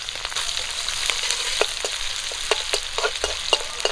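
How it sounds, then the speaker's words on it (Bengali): Panch phoron spices, slit green chillies and chopped onion hit hot oil with a loud, continuous sizzle, crackling with frequent sharp spits and pops, up close and without voices. "গরম তেলে দিয়ে দিচ্ছি পাঁচফোড়ন, কাঁচা লঙ্কা চেরা, পেঁয়াজ কুচি"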